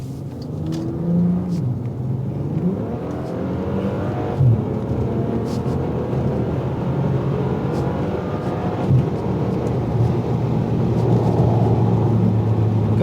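Bentley Supersports accelerating hard: a loud, continuous engine roar from inside the cabin, with the pitch climbing through gears and a deep rumble underneath.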